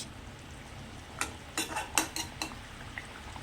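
Curry gravy for a fish and potato dish simmers in a pan while being stirred, giving a soft low bubbling bed with several brief scraping and sizzling bursts from the spoon near the middle.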